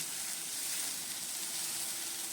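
Ginger paste fries in a little white oil in a wok, giving a soft, steady sizzle and hiss that stays even throughout, close and fairly quiet, with no talking.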